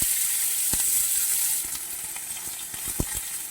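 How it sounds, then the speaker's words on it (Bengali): Chopped onion frying in oil in a pan with bay leaf and whole cumin, a steady bright sizzle throughout with a few sharp clicks and taps of a utensil against the pan, no voices. "এটাকে আমি এক মিনিটের মতো ভেজে নেব"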